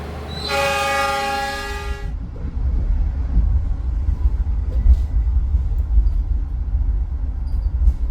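A Taksaka passenger train departing Jogja in the morning sounds a loud, sustained horn blast for about two seconds, then a steady low rumble of the moving train continues.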